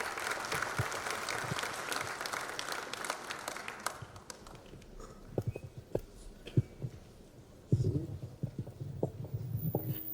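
A conference audience applauds the health minister as he is welcomed onto the stage, a dense roar of clapping for about four seconds that thins into scattered individual claps and stage noise.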